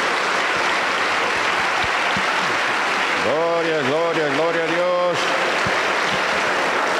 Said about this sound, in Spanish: La iglesia del Señor le recibe con fuerte aplauso para Jesús.